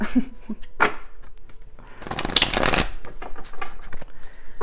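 Tarot cards shuffled by hand in a quick riffling flurry, with crisp repeated card slaps and a dense burst of shuffling in the middle, close and clear with no talking.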